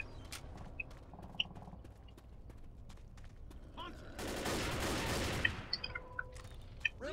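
Gunfire in the zombie shooter Left 4 Dead on The Sacrifice campaign, a burst of rapid shots about a second long with scattered single cracks before and after, moderately loud over game ambience.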